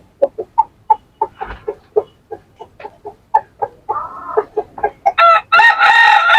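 Aseel rooster and hens cluck in a quick run of short, close calls that build into a loud crowing cock-a-doodle-doo near the end.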